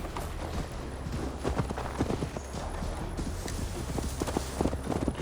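Hooves of a horse galloping in Assassin's Creed Valhalla, a quick rhythmic clip-clop over dirt that stays close and steady, with a low ambient bed beneath and no talk.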